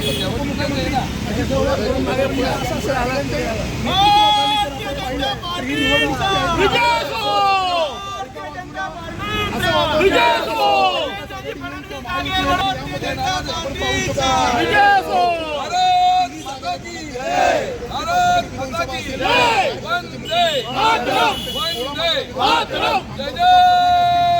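A crowd of Mahayuti supporters celebrates an election victory, a loud, continuous babble of cheering and shouting voices with bursts of louder calls throughout.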